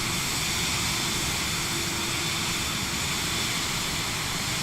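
Steady, loud jet engine roar of a Vision Jet in Microsoft Flight Simulator 2024 at climb power, with a broad, constant hiss and low rumble, unbroken throughout with no voices.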